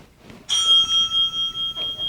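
A single bright bell rings out loudly at a local election debate, struck once and then ringing on with a steady, pulsing shimmer as it slowly fades.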